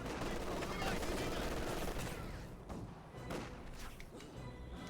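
MG 42 machine gun fire in a Company of Heroes 2 battle: loud, dense rapid bursts, heaviest at the start and then thinning, mixed with other battle noise under a commentator's talk.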